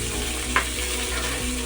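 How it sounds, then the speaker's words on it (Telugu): Sorghum grains fry lightly in a pan with a steady, soft sizzle and hum, broken once by a brief clink or scrape. "కొద్దిగా ఫ్రై, లైట్గా ఫ్రై కావాలి, ఎక్కువ కావాల్సిన అవసరం లేదు."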